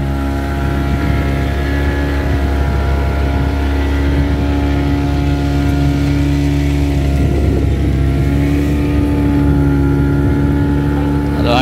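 A motorboat engine runs as the boat sets off from a beach near Ganapatipule, a loud, constant drone with steady tonal hum throughout, plus faint splashing and some voices underneath.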